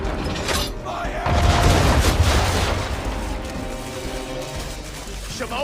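Ship cannons fire in a naval video game, a heavy booming blast followed by a long rumbling decay, loud and close with game sound around it.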